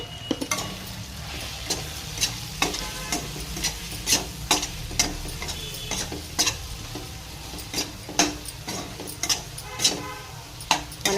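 Eggs fry in a pan seasoned with salt and chilli powder, with a low sizzle underneath sharp, regular scrapes and taps as a spoon stirs and turns them, close and clear with no voices.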